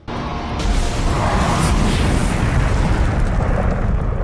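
Tank shell blast in an apocalyptic action film, a loud sustained rumbling explosion that swells quickly and roars steadily for several seconds with no speech.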